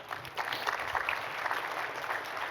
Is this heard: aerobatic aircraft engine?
no